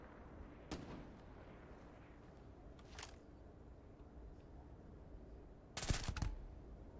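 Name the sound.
gunfire in the video game Starfield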